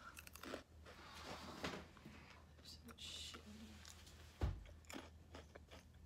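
Dry Reese's Puffs cereal eaten without milk gives close, crisp crunching and chewing bursts, with one louder bite partway through amid quiet mouth sounds.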